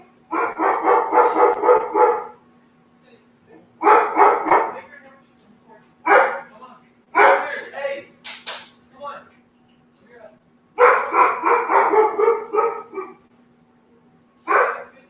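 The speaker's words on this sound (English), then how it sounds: "What are you barking at?" A dog barks in repeated loud, close bursts of several quick barks each, separated by short pauses, with a person's voice heard between the bursts.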